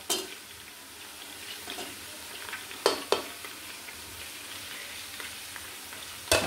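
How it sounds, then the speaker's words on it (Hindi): Blended onion masala frying in oil, with a steady sizzle and a few louder spoon scrapes and taps against the pan near the middle and at the ends, and no talking. "तकरीबन 5 मिनट इसको भी मैं ऑयल में पकने दूंगी"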